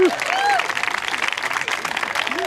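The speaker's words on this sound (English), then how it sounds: "give him a big round of applause" Wedding guests give the bride's brother a big round of applause, loud dense clapping and cheering from a nearby crowd, with a whistle or two over it.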